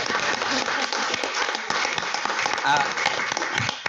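Audience applause for Freddie Freeman at a special called session, a continuous patter of many hands with voices talking over it.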